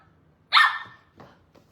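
A female dog gives one loud, sharp bark close by indoors, followed by a couple of fainter, softer yips or whimpers.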